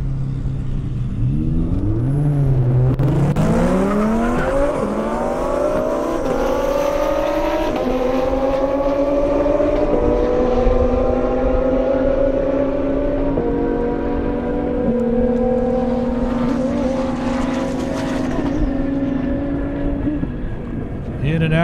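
An Audi R8 races down an airstrip at an Indianapolis event, its engine rising through gears with climbing whines and shift breaks, loud and sustained from start to finish, with a commentator's voice running over it.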